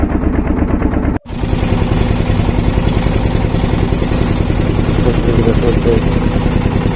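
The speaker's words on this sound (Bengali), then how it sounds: "ট্রলার চলছে।" A trawler boat's engine drones loud and steady as it crosses a river toward the sea in the Sundarbans. The rumble cuts out for a moment and then resumes.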